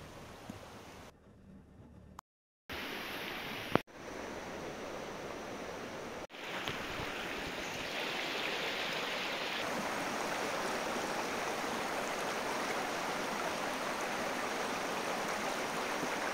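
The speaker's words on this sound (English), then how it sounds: "this river flowing through forest" A river flows through forest near Tuipui ferry village outside Siaha town in northeast India, producing a steady, loud rushing wash of water broken by a few brief cuts early on, with no voices.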